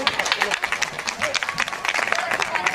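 Enthusiastic applause and clapping from an event audience, dense and continuous for nearly three seconds, with crowd noise and scattered voices mixed in.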